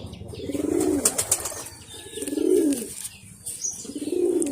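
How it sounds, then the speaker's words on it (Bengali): A male golden pigeon coos nearby, three full, rolling throaty calls spaced a second or so apart, with a few light rustles and clicks in between. "নর কবুতর, এটা"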